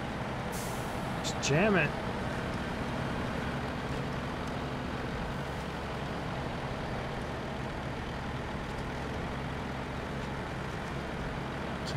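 A heavy truck engine drones steadily as it climbs a hill in the off-road driving game SnowRunner, in fifth gear with all-wheel drive switched off, and someone speaks briefly over the continuous low hum.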